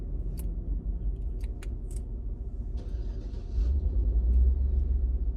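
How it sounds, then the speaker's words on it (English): A car pulling out and driving off nearby, its low engine rumble swelling steadily louder toward the end, with a few faint clicks and a brief hiss early on and no talking. "He must be driving his car out."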